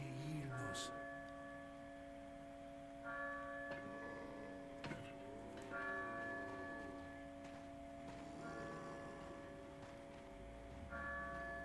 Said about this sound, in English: we rang the bell.